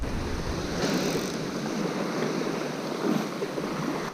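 Waves of the incoming tide washing onto a rainy New South Wales beach, a constant broad surf roar with swells rising and falling, gusts of wind buffeting the microphone.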